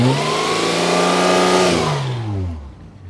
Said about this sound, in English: if I rev the engine up from here,